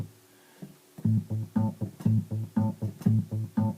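A Korg Kronos step sequencer loops an arpeggio pattern with one step removed, giving a rhythmic run of short synth notes with a small gap in the sequence, fairly quiet and alone.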